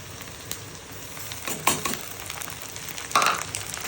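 Small shrimp fry in oil with onion, giving a steady close sizzle broken by two louder crackling bursts as the pan is disturbed.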